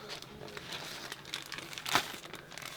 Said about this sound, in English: I'm going to go with the red blade. And we'll just cut a white circle